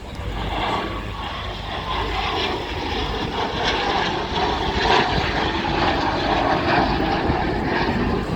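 A BAC Strikemaster jet flies an airshow display at Eastbourne, giving a loud continuous engine roar that swells slightly as it passes, with no speech over it.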